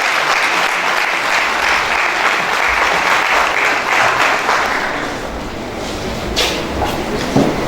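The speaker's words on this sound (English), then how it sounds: "please let's clap for him once again" A crowd at a Fulbright regional workshop at the University of Benin applauds steadily, a dense wash of clapping that holds for several seconds, easing slightly before picking up again.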